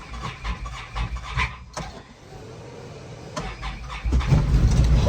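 A Can-Am vehicle turns over in cold weather, with short close-up cranking bursts followed by the engine catching and roaring louder near the end, and nobody talking.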